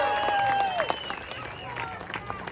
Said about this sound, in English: Big round of applause for both volunteers.